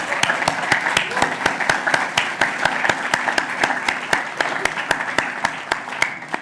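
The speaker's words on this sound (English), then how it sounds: "Let's give them a big round of applause." A crowd at a health-tech investor summit claps for departing panelists, producing loud applause with a strong, evenly spaced rhythmic beat running throughout, while a voice speaks over it.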